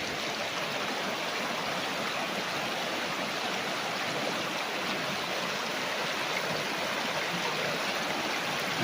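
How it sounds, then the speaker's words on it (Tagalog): Strong current of a river rushing past a farm lot in Majayjay, Laguna, a steady, loud broadband roar of flowing water that stays even and unbroken throughout, with no voices. "Lakas ng agos."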